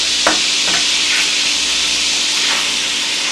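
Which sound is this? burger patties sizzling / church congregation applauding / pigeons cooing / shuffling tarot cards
burger patties sizzling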